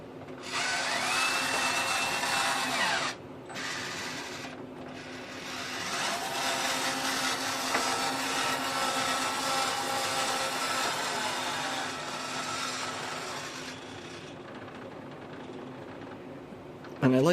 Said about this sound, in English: And I like these specific servos. They're from Hobby King. They don't have any whine to them when you run them slow.